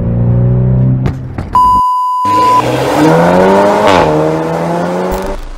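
A 300 hp Volkswagen T-Roc R with an Akrapovic exhaust revs loudly up close, its engine note rising and falling with rough bursts, broken briefly by a steady electronic beep.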